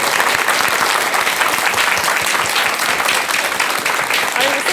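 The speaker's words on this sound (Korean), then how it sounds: "귀한 말씀 들려주신 대스님께 여러분 큰 박수 한번 다시 부탁드릴게요." An audience claps for a Buddhist monk after a lecture, loud, dense and sustained applause filling the whole clip without a break.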